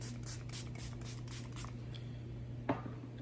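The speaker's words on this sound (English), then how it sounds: "we're gonna spray with our setting spray" Makeup setting spray pumped in a quick series of about seven short, close spritzes, each a sharp airy hiss, followed by quiet and a single soft click.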